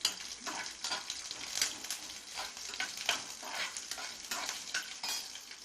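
Telangana-style fish fries in hot oil with a continuous crackling sizzle, broken by repeated scraping stirs in the pan at moderate volume, and no voices.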